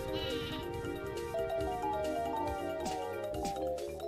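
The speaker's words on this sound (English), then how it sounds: "A stampede of sheep!" A stampede of sheep in the Paper Mario video game, heard as a quick series of overlapping bleats. The bleating is set over the game's steady background music and stays moderately quiet.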